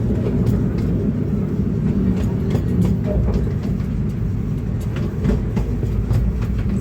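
A coal-fired steam train rolls past close by, a steady loud rumble with faint rhythmic clacking of wheels running through the whole stretch, no voices over it.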